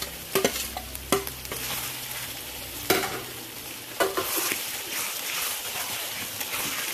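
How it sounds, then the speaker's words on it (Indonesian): Spice paste with ginger and turmeric sizzles steadily in a pan while a utensil stirs it, sharp scraping clacks recurring every second or so over continuous frying hiss, close and alone. "Semua bumbu kita campur, kita goreng."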